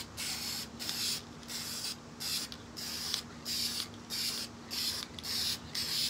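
Quick bursts of spray paint hit DIY galvanized-look charger plates, about eight short hissing spurts in a steady rhythm, each lasting roughly half a second with brief gaps between, close and fairly loud with no talking.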